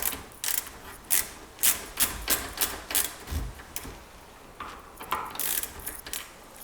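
A tool works the fork adjuster bolt on a WP Xact fork, giving a run of sharp, close mechanical clicks in an even ratcheting rhythm, with a short pause near the end before a few more clicks.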